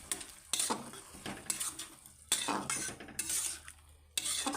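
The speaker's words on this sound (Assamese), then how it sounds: "ফ্ৰাই কৰি দিম।" Boiled black chickpeas in their cooking water frying with spice masala in a pan for a spiced chickpea curry, with bursts of sizzling and the scrape of a stirring spoon against the pan, close and alone.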